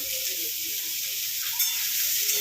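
Food sizzles steadily in a hot pan as it is stirred, a constant close frying hiss with a few brief scrapes of a utensil and no talking.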